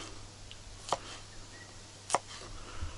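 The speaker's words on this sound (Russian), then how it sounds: "Сейчас все овощи порежу." Two sharp knife chops on a cutting board, spaced over a second apart, as vegetables are cut outdoors at a fishing camp under a low steady background hum.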